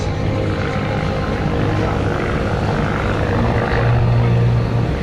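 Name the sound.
Stearman Model 75 biplanes flying at airshow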